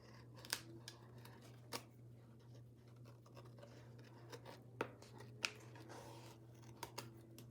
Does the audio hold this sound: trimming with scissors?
yes